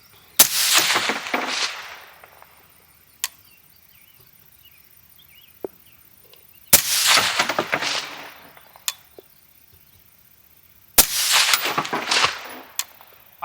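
Video game gun bursts fired in three long volleys of rapid, loud shots, each trailing off into a decaying echo, with sharp single clicks and clanks in the quiet gaps between them.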